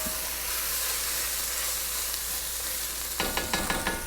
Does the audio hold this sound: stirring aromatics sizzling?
yes